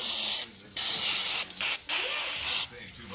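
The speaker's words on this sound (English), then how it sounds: "here I'll spray it again" Bursts of hissing spray applied to a resin surface, four or five close, loud blasts of varying length separated by short pauses.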